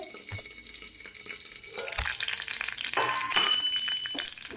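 Mustard seeds and curry leaves hit hot oil for a methi kadhi, starting quiet and then bursting into crackling, spitting sizzle that grows louder and busier.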